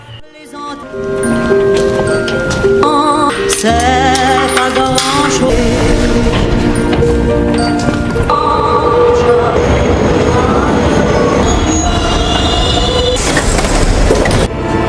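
A subway train rumbles loudly and continuously, with metallic wheel squeals and clattering rising over a dense mix of background sounds.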